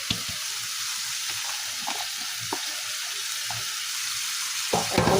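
Chopped potatoes stirred into cooked spice masala in a pan, giving a steady close frying hiss with soft scrapes of the spoon and a brief clatter near the end, with no talk.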